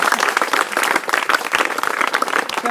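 Loud, dense applause from a crowd at a school Environment Day event in an Indian inter college, sustained clapping without a break throughout.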